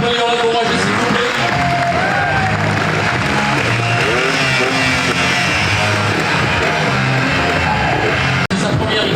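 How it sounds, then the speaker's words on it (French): A crowd applauds and cheers at an outdoor motorcycle trial demonstration show in Combes, Aveyron, loud and continuous throughout, while an announcer's amplified voice talks over it. "Allez, on applaudit, on l'encourage, s'il vous plaît."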